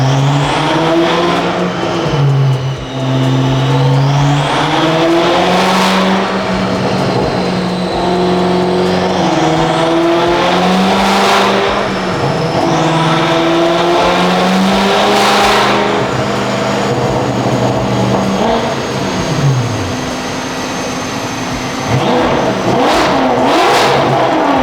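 A car engine with a newly fitted intake revs up and settles into a steady cruise, pitch rising and falling in waves over about 25 seconds, loud and close throughout, with no talking.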